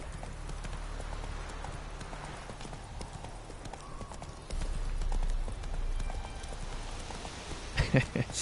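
Hooves of the horse Roach galloping in the game The Witcher 3, a steady rhythmic clip-clop running throughout at moderate level, with someone talking over it.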